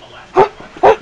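A puppy gives two short, close, sharp barks about half a second apart.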